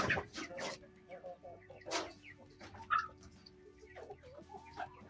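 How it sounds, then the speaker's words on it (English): Chickens cluck and chatter close by in a backyard run, short bursts of clucks and squawks at irregular intervals over a faint steady hum. "You can hear some happy chickens beside me."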